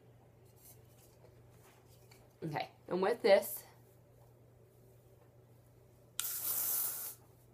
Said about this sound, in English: I'm just going to kind of spray it into the position I want it.